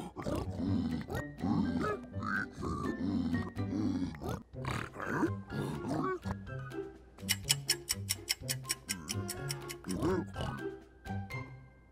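A pig character in Minecraft gives repeated grunts and oinks through a busy game soundtrack, with quick ticking clicks in the later part.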